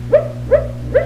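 Small dog sitting in a lap lets out three short, evenly spaced barks or yips, close and clear over a steady low hum.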